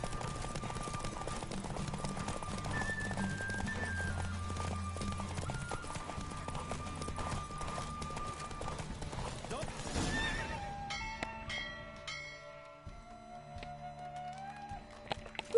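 Horse hooves clip-clop at a gallop during a race in The Witcher 3: Hearts of Stone, with whinnies and game speech over a steady musical bed, then a quieter stretch with tonal chimes.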